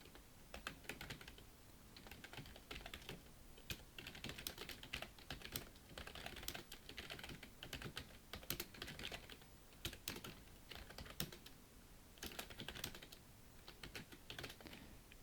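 Continuous close-up typing on a computer keyboard, fast irregular key clicks with brief pauses, heard alone without speech while entering answers for a PowerPoint certification exam task.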